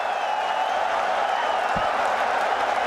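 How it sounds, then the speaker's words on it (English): A steady roar of cricket fans in a stadium cheering a batter's fifty in a Pakistan versus Australia match, a dense, sustained crowd noise with no break. "Babar Azam gets the 50 to a loud cheer of the fans"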